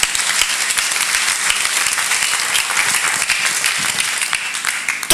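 A church congregation at a Sunday service applauds for the Lord, with loud, dense clapping that carries on steadily for about five seconds with no talk over it.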